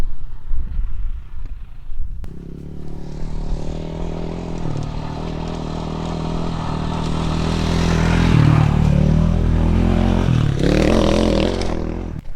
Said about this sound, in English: Got a motorbike coming.